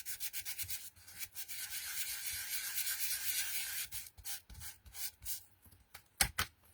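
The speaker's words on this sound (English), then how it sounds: "you can see you can sand back your glitter card" Non-shed glitter card is sanded back by hand, giving close, steady scratchy rubbing strokes that break into short, choppy scrubs and a few taps near the end.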